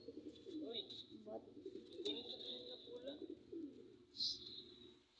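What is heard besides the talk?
pigeons cooing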